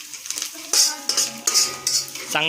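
Peanuts drop into a pan for poha amid bright metallic clinks and scrapes of a spoon against the pan, several quick, close strikes in a row.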